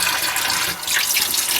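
Running water rinsing developer chemistry off the back of a tintype photographic plate, a close, steady splashing hiss with no pauses.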